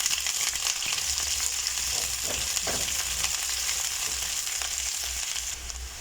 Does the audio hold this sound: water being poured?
no